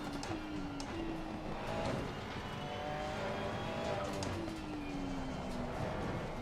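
Race car engine in the Assetto Corsa Competizione racing game, a continuous droning engine note rising and falling through gear changes, steady and loud with no talk.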